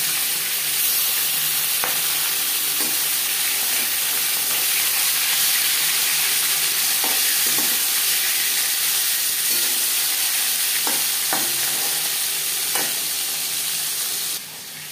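Fish head and pieces of rohu frying in hot refined oil in a pan, a loud, continuous sizzle and hiss with a few faint clinks and stirs along the way, and no one speaking.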